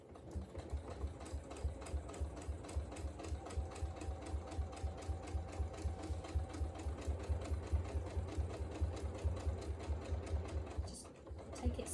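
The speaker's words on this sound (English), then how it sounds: "And then just sew straight stitch along." A sewing machine straight-stitches slowly through several layers of a workshop bag, a steady rhythmic close-up whirr with regular needle thumps running almost unbroken to the end.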